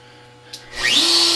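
A CNC router spindle whirs up to speed in a workshop before carving a wooden flag, rising from a faint hum into a loud, steady high-pitched whine after a short click.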